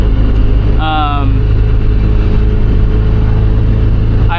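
An old car engine with a torn shift boot drones loudly and steadily in the cabin, a low rumbling hum, while a voice speaks briefly over it.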